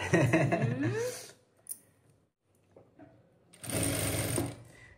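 A sewing machine double-stitches a churidar in two close bursts of fast whirring, one at the start and one near the end, separated by a quiet stretch with small clicks of handling.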